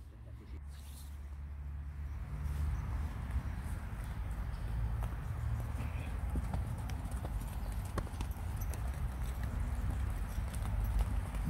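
Horse trotting on command during a driving or riding session, steady clip-clop hoofbeats continuing through the whole stretch, fairly close and moderately loud over low rumbling background noise.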